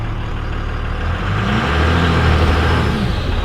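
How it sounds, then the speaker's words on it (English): A Cummins diesel truck spins its tires with a loud, steady engine roar close by; the revving rises slightly in the second half, with no talk. "I'm already lighting these tires up, man. Spinning the tires,"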